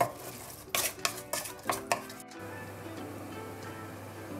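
Onions with salt in oil are stirred in a pan with several rhythmic metallic scrapes and clanks up close, then the stirring stops and a low, steady sizzle continues alone.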